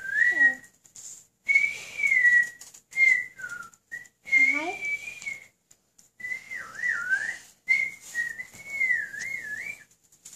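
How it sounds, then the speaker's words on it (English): Loud, shrill human whistling in short warbling phrases and sliding notes, repeated with brief pauses between them. "That is a loud whistling."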